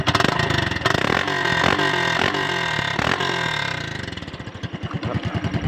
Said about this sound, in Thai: เรามาฟังเสียงท่อนะครับ